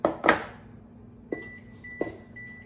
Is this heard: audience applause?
no